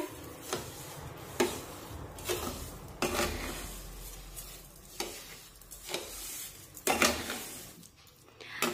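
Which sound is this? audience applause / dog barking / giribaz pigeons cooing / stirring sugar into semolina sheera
stirring sugar into semolina sheera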